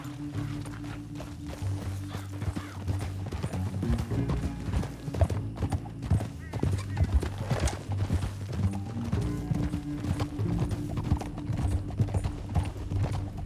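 A horse gallops in the Red Dead Redemption 2 video game, its hooves clip-clopping in a fast, steady rhythm throughout, moderately loud, over low ambient music.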